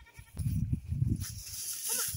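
A frightened goat bleats a few times in a ripe rice paddy, the bleats fairly close and clear over quiet outdoor background.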